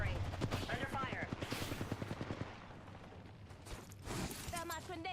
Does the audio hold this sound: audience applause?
no